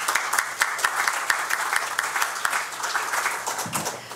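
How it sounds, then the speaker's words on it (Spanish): Audience applause fills a lecture hall at a history academy conference: steady, dense clapping with a few sharper claps standing out, sustained at an even level throughout. "Un aplauso, por favor."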